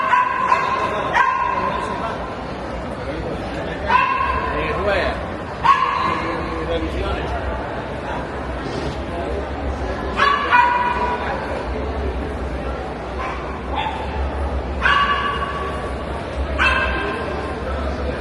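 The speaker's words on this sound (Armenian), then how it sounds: "նայեք շունը հաչում է, խանդում է" A dog barks and yips in scattered bursts at a moderate distance while people talk nearby and a low rumble runs underneath.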